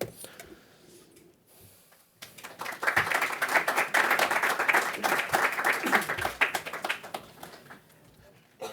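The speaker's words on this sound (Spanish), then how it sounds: "vamos a darles un aplauso a los dos titanes" Applause from an audience at a monthly academic medical session, starting after a quiet pause and building to dense, sustained clapping for several seconds before thinning out.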